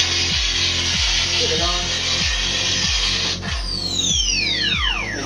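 A 1984 Kenner Proton Pack toy from The Real Ghostbusters plays its electronic effect, a repeating pulsing whir in regular beats, ending with descending sweeping zaps; a voice speaks briefly over it.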